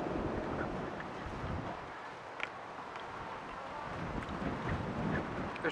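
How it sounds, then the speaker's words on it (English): Strong wind buffets the microphone outdoors in Victoria, BC, a steady broadband roar filling the whole stretch with brief gusty peaks and no clear voices over it. "It's so windy right now."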